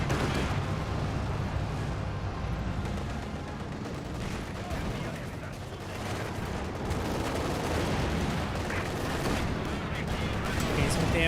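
Dense, continuous gunfire and cannon blasts from a Company of Heroes 2 tank battle between a T-70 and a Panzer 4, loud and sustained throughout with overlapping shots and booms, no pauses.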